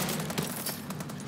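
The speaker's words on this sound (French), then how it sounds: "il y a un mec qui me tire de là-bas" Gunfire in the Call of Duty Advanced Warfare multiplayer game, a dense crackle of rapid shots and bursts sounding steadily through the whole moment with no talk over it.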